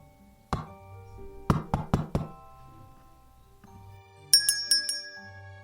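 Knocking at a parlor door on a Halloween night: one knock, a pause, then a quick run of four sharp raps, followed by a softer tinkling, jingling chime, all close and clear in a quiet, musical setting.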